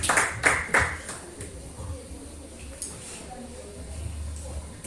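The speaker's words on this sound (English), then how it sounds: "Round of applause." Audience in a Lagos leadership academy hangout hall gives a round of applause, a burst of claps loudest at the start and then thinning to scattered hand claps with room murmur and voices underneath.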